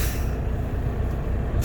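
A truck's air brake system builds pressure with a steady low rumble of the idling engine and compressor, constant and fairly loud throughout, with a faint hiss near the end.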